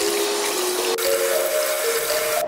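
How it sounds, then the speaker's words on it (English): Warm water runs from a bathroom sink tap as a face is wetted, a steady close rushing stream with a small splash partway through and no voices. "the first thing I do is wet my face with some warm water"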